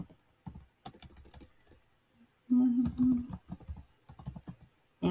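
Fingers type an image prompt on a computer keyboard in quick, uneven bursts of close clicking and tapping, with one louder stretch in the middle and no talking.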